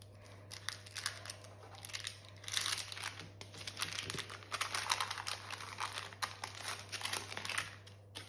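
Chocolate caramel tart pastry dough is cut into pieces, producing close crisp crinkling and scraping cuts in irregular bursts, fairly quiet over a low steady hum, with no talking.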